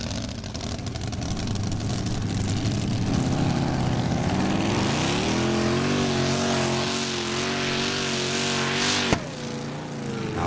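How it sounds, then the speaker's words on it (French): The heavily modified engine of the pulling tractor Dominator, in a two-wheel-drive tractor-pulling final, roars loudly and steadily with its pitch climbing, then a single sharp backfire cracks near the end before the roar resumes. "Dominator qui a eu un backfire, un retour de flamme sur ce moteur"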